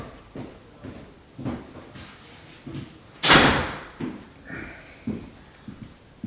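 A door is pushed shut indoors during a home stretching session, giving one sharp, fairly loud thud that stands out from the quiet room and soft intermittent sounds around it.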